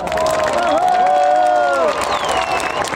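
An outdoor crowd applauds and cheers in front of Alexander Nevsky Cathedral to welcome Bulgaria's men's national volleyball team, a dense, steady roar of clapping and shouts with whistles rising above it.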